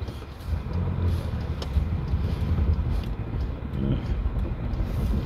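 A truck turns around and drives back out, giving a steady low engine rumble with faint hiss at close range, continuous throughout the short stretch, with no one talking.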